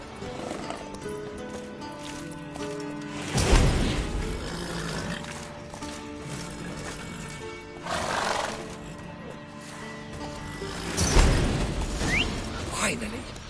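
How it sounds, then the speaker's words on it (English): Horses in The Witcher 3 let out three loud neighs spaced several seconds apart over a steady game ambience, with speech present. "Gotta calm all the horses before they wake the guards."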